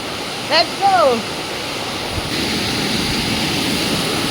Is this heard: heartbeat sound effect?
no